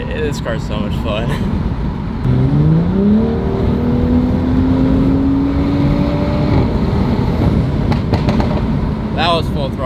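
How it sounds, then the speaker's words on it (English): A stage 2 BMW 435i accelerates hard at full throttle, its engine note climbing steadily through a loud, droning pull before easing off, heard from inside the car with a person talking over it. "That was full throttle."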